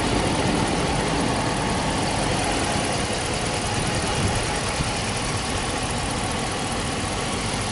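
The 5.7-liter Hemi V8 in a 2014 RAM 1500 Laramie Crew Cab runs at a steady idle, a loud, constant broadband rumble close to the microphone with no talking over it.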